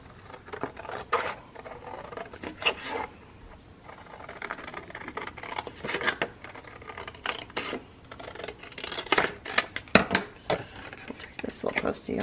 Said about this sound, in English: I'm going to go ahead and cut it out